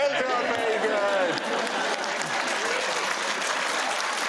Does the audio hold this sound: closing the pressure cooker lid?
no